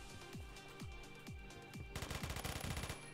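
Gunfire from the video game Phantom Forces. First come several spaced single shots with falling tails, then a rapid burst of automatic fire, fairly quiet overall.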